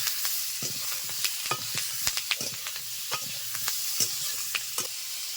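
Potatoes and green chilies sizzle in hot oil, with a spoon scraping and stirring them in repeated, uneven strokes over a steady frying hiss, close and alone with no voices.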